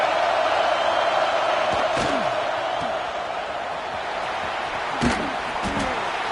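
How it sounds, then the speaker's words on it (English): Steady roar of a stadium crowd in the Madden football video game on PS5, a dense continuous wash of cheering with a few sharp thuds and shouts rising out of it. "This crowd ready to make its presence known."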